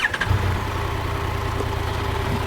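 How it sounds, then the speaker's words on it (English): A Triumph Tiger 1200 GT motorcycle engine runs steadily at a smooth idle, a low continuous hum held close and even throughout with no talking. "When you start the engine, nothing happens. It just starts making noise."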